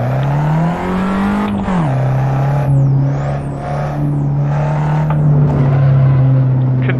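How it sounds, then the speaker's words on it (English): A Fiat 500 Abarth in a racing game launching from first gear, its loud engine droning steadily with a brief rise and dip near the start, then holding a strong close revving hum. "So, let's put it into first. Slowly release the clutch as we launch."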